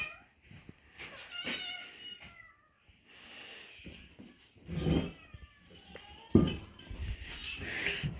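Farm cats meow repeatedly and insistently before feeding, several close, overlapping cries rising and falling over about eight seconds, with a faint clatter in the background.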